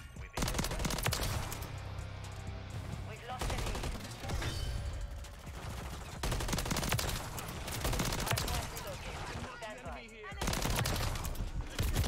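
Submachine gun fire in Call of Duty: Modern Warfare 3 multiplayer, with dense rapid bursts and layered game effects running loud and nearly continuous, broken by brief pauses.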